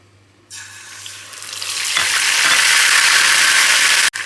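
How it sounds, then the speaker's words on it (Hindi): Spice-coated fish pieces dropped into a hot pan, setting off a sudden loud sizzle that builds into steady, close, crackling frying, with no talk. "इस तरह मैं मछली को इसमें कोट कर लेती हूँ और इसे फ्राई करती जाती हूँ।"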